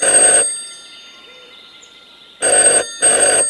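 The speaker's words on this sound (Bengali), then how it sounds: "এমন সময় ঝনঝন করে টেলিফোনটা সশব্দে বেজে উঠল।" An old telephone bell rings loudly in bursts, one long ring, a pause of quiet, then two shorter rings close together, alone without talk.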